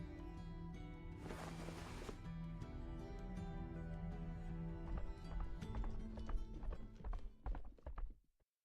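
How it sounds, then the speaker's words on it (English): A swift horse gallops toward the listener in the video game Black Beacon, its hooves clopping in a quickening, irregular rhythm that grows louder before cutting off abruptly. "A swift horse is approaching,"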